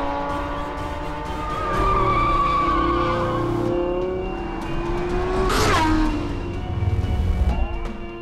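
A Lamborghini Huracan supercar corners hard, its tires squealing and skidding loudly over a steady engine roar, with a sharp swell of tire noise near the end of the turn.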